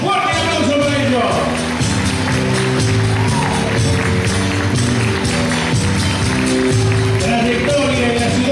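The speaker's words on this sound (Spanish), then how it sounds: "¡Fuerte aplauso para ellos!" Applause for award winners at the Premio Planeta Nuevo Milenio 2010 business awards in Río Gallegos, a steady crowd clapping under loud amplified speech and background music throughout.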